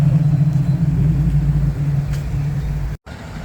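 Braptor race truck engine rumbling at a low, steady idle, close and continuous, dipping briefly near the end before resuming.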